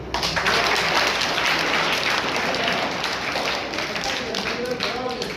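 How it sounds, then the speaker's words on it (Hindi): Loud, sustained applause from a crowd of schoolboys at a results ceremony at a government boys' high school in Azad Kashmir, a dense steady roar of clapping that fades slightly toward the end. "उसके लिए भरपूर ताली"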